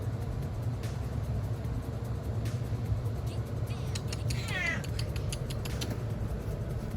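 A pet cat gives a short meow partway through, heard in a basement under the loud, constant roar of a running air conditioner.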